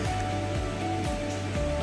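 Tincha waterfall near Indore in monsoon season, water dropping into a pool below and flowing on as a river, heard as a constant dense roar of falling water, close and steady throughout.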